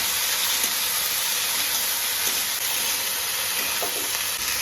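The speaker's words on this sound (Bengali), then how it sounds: "এখন সব কিছুকে একসঙ্গে খুব ভালো করে ভেজে নেব" Potato, cauliflower and tomato fry together in hot oil, a loud, continuous, close sizzle with a steady hiss and a few faint stirring taps beneath it.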